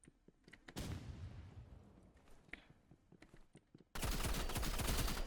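Rapid bursts of gunfire in the Roblox game Rivals, loud and dense, starting near and continuing in clustered volleys before a sustained loud burst at the end.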